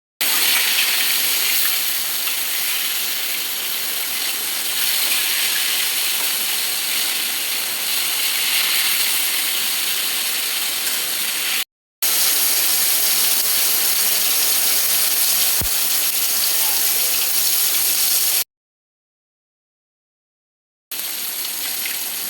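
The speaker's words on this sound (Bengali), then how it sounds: "আমার মাছ ভাজা হয়ে গেছে" Pieces of rohu fish fry in hot oil, giving a loud, steady, dense sizzle that runs unbroken apart from two abrupt cuts to silence, with no talking.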